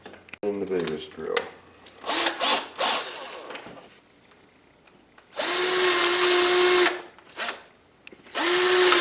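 A power drill drilling wood whines in a few short bursts, then runs in two longer steady spells with brief pauses, close and loud.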